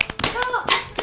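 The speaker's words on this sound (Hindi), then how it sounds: "वाह वाह वाह, तालियां आनी चाहिए भाई।" Scattered hand claps from a small audience after a martial arts board-breaking demonstration, a few sharp irregular claps over about a second, close and moderately loud.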